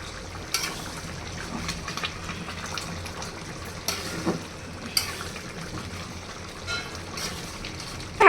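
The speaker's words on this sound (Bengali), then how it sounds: "এখন সবগুলো একসাথে একটু নেড়ে নিব।" Beef bhuna khichuri being stirred in a pot on a stove over medium heat: soft scraping and wet churning with gentle bubbling underneath, close and steady, with a few sharper knocks.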